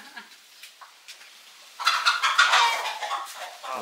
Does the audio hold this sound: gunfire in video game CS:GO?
no